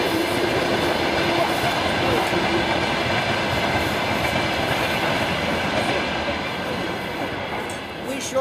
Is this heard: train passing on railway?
yes